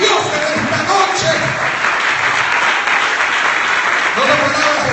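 A church congregation applauds loudly and steadily, a dense wash of clapping filling the room throughout, with voices mixed in.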